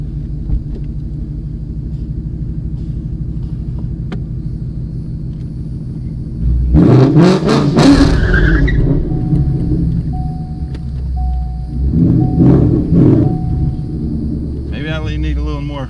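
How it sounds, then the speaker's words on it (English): A 2016 Mustang GT with a T56 Magnum XL swap builds a low, steady engine rumble that surges loud midway into a burnout and then settles back to a throaty idle. "So I guess we're gonna try a burnout."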